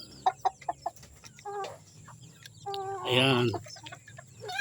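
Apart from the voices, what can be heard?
native chickens clucking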